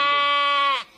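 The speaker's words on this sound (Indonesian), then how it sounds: "Ini kambingnya banyak." A single goat gives one loud, close, drawn-out bleat with a strong nasal tone, then falls quiet.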